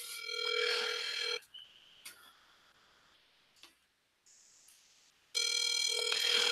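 A telephone rings on an outgoing follow-up call: a loud burst of ringing, then quiet with faint ticks and clicks, then a second burst of ringing.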